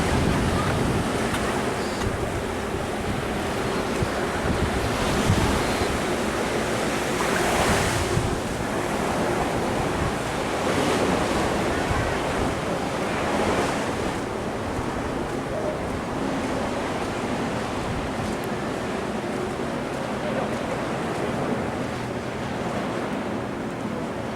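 Ocean waves wash onto a white-sand Key West beach beside a resort pier, a steady broadband surf with gentle swells of louder breaking mixed with wind buffeting the microphone.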